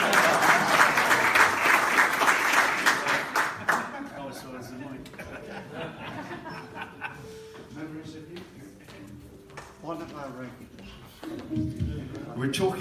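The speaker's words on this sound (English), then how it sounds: "give these gentlemen a round of applause." An audience applauds musicians at a folk music evening, with dense clapping for the first few seconds that then thins out as chuckles and talk take over.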